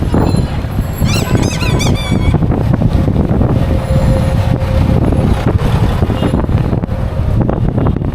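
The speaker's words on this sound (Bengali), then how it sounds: "ঢাকা কমলাপুর স্টেশনে চলে আসছি এটা হচ্ছে ঢাকার প্রধান রেলওয়ে স্টেশন কমলাপুর স্টেশন" Trains at Kamalapur railway station in Dhaka, a loud steady rumble with high wheel squeals and wind buffeting the microphone, close and busy, with some talking.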